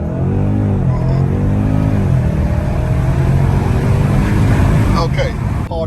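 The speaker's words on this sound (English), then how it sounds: "Okay, hard acceleration in sports mode" A BMW M850i Gran Coupe accelerates hard in sports mode on a snowy road, its engine note climbing steadily in pitch inside the cabin and staying loud throughout, with a voice exclaiming over it.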